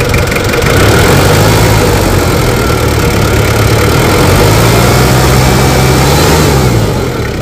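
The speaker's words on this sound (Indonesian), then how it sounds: "untuk itu suara mesin masih oke." A steady, loud diesel engine of a Ford Ranger XLT Hurricane 4x4 pickup truck idles close by with a low rumbling drone that holds even throughout, with no voices.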